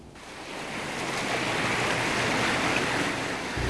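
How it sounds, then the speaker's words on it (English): Floodwater waves rushing past a camera during Hurricane Irene in South Florida, a loud, steady churning roar of surf-like water with wind buffeting the microphone, continuous throughout and unbroken by any voices. "The waves rushing by our camera make it appear as though we're next to Ocean Drive"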